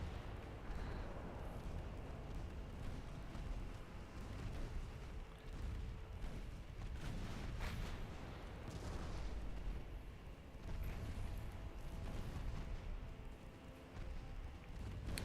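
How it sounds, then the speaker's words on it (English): Paired 2-inch naval gun turrets firing in a steady, continuous barrage of low booms and rumbles during a ship battle in Ultimate Admiral Dreadnoughts, loud throughout and with no voices. "And these new turrets are working, these double 2-inch guns."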